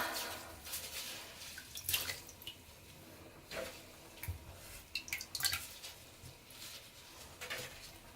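Water splashing and dripping while rinsing raw suri alpaca fleece by hand, with irregular sloshes and trickles at close range, moderately quiet, no talk.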